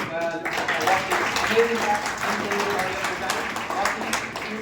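Audience applause at a group get-together celebration, a steady broad wash of clapping lasting the whole stretch, with voices faintly mixed in.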